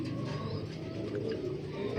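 Racing pigeons coo in a crowded breeding loft, a dense, continuous murmur of low soft coos from many birds close by, with faint wing and cage noises and no talking.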